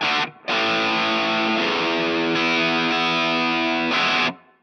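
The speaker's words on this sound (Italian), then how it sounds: "Aggiungo un leggero riverbero, in questo caso il primo riverbero che ho trovato su questa pedaliera" Electric guitar through a pedalboard with distortion and light reverb, a sustained, heavily driven chord ringing loud and steady after a brief opening stab, then cut off with a short reverb tail.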